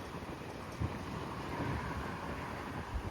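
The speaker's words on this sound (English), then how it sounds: "And it's becoming windy right now." Steady wind buffets the microphone in a low, continuous rumble with a few stronger gusts while hiking in a park in Scarborough, no voices present.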